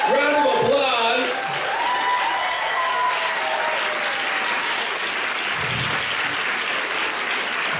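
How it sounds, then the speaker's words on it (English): Sustained audience applause fills a room after a comic song performance, starting under a brief sung or spoken line and then continuing as a steady, dense wash of clapping for several seconds. "Round of applause."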